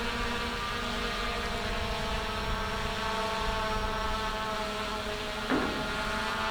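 A small consumer drone, a DJI Mavic Mini or Hubsan Zino 2, hovers overhead at about 100 feet, giving a steady, even propeller whine throughout with no talking.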